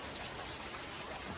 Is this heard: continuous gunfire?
no